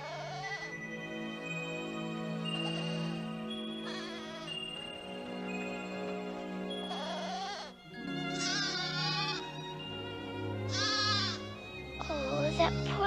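A little cartoon goat bleats in an animated Alice in Wonderland scene, several wavering, crying bleats over orchestral music, close and prominent.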